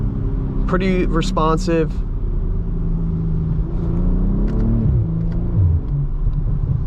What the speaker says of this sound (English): A little bit more pumped in audio from this inline 6, but you do hear some subtle burbles out the rear.